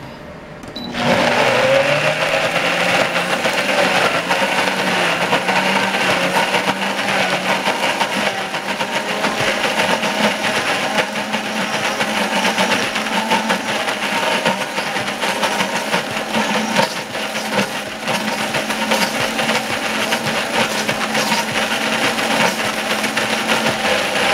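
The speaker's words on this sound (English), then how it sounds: "whatever you use on your blender to get it to the right spot to puree." A blender pureeing basil pesto runs continuously at high speed, a steady loud whirring motor drone that holds for the whole stretch without pause.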